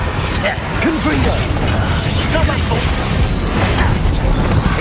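A Confringo blasting spell explodes in the video game Hogwarts Legacy, a loud, dense burst within continuous, crowded combat noise and shouted voices.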